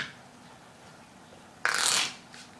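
A deck of playing cards being shuffled during a card trick: one short, crisp riffle burst up close, followed by a brief faint flutter of cards settling, with no talking.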